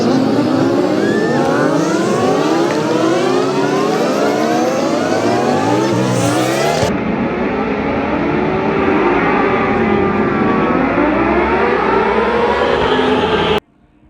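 Amateur race cars line up at a dirt track and roar off, engines revving and wailing with rising and falling pitch, several cars loud and near, then cutting off abruptly at the end.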